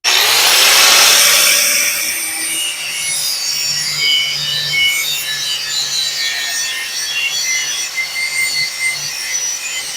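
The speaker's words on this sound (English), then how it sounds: "we want to make sure we grind out far enough so that it's prepped for our welding" Grinder working on a Jeep Wrangler frame to prep it for weld repair, a loud high-pitched whine that starts hard and settles into a sustained abrasive grinding, alone without speech.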